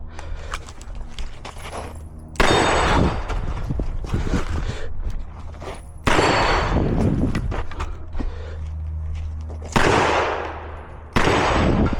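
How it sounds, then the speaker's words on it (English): Pistol shots ringing off a steel dueling tree target during ammo training, sharp loud reports in several bursts with metallic clangs between them. "I'm gonna get in and shoot that dueling tree."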